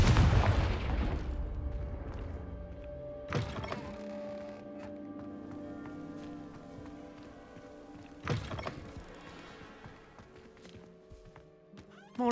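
A Confringo explosion spell goes off in Hogwarts Legacy, heard as a few dull booming thumps with a lingering low rumble beneath a shimmering magical tone, fairly quiet overall.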